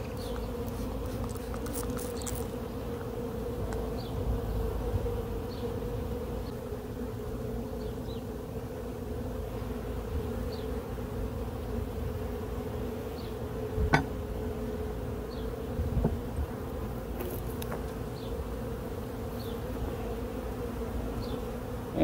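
A swarm of honeybees stirred up during a cutout removal from a structure, a steady close droning hum with individual bees buzzing past throughout, and a couple of faint knocks.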